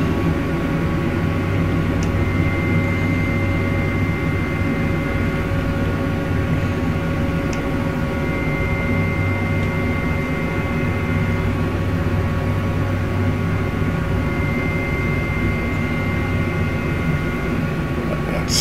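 A helicopter flies in a flight simulator set on Reunion, its rotor and turbine making a steady, loud, droning whine with a faint engine tone that holds evenly throughout, with no talk over it.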